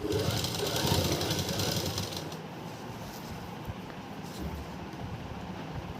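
A sewing machine stitches the neckline of a kurti, its rapid mechanical whirr loud and busy for about two seconds before dropping to a quieter, steady run.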